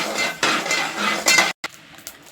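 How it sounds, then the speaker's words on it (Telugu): Stirring and scraping rattles in a pan as mustard seeds (100 grams) dry roast for an amla pickle, steady and close for about a second and a half, then a brief silence before softer, scattered clinks. "అదేవిధంగా 100 గ్రాముల ఆవాలు కూడా వేయించి పక్కన పెట్టుకోవాలి"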